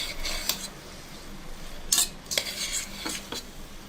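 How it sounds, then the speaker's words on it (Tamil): Green chillies stirred and lightly sautéed in a pan for a South Indian thuvaram kottai kuzhambu, with a spoon clinking and scraping against the metal in several distinct strokes over a soft, quiet sizzle. "இப்போ இதை நல்லா மிக்ஸ் பண்ணிக்கலாம். லைட்டாக வதங்குது."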